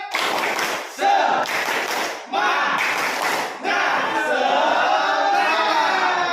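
A classroom of pupils doing a rhythmic spirit clap during a lesson, loud close bursts of clapping in several grouped rounds with shouted voices mixed in.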